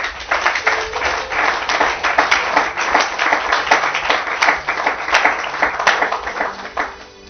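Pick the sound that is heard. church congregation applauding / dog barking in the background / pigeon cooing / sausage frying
church congregation applauding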